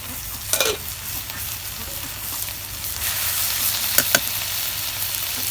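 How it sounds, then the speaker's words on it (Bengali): Garlic, onion and ginger paste frying in hot oil for a beef and jackfruit-seed curry, a steady sizzle with a couple of sharp stirring scrapes near the start and again toward the end, no talking. "তেল আমার গরম হয়েছে এখন আমি তেলের মধ্যে রসুন পেঁয়াজ দিয়ে দিব"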